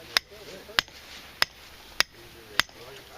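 Five sharp metallic strikes of a 2-pound hammer driving a trap stake into the ground, at an even pace roughly every half second, ringing briefly over a quiet background.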